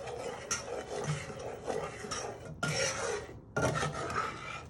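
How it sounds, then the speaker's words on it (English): Gingerbread mixture being stirred in a bowl, a steady close rasping scrape that runs continuously with a couple of brief pauses, no voices. "And you want to give that a little bit of a stir."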